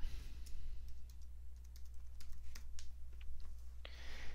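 Rapid typing on a computer keyboard into a notepad in patient-simulation software: a steady run of light, close clicks and taps at an uneven rhythm over a low background hum, with no talk.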